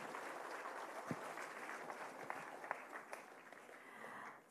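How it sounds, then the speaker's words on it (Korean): An audience applauds at a Korean talk show, a soft, fairly distant spread of clapping that holds steady with a few louder individual claps and tapers off at the end. "큰 박수 부탁드립니다."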